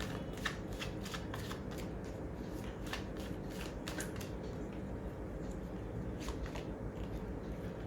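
A deck of tarot cards is shuffled over and over in a rapid run of crisp riffling flicks, close and fairly quiet, over a steady background hum with no talk.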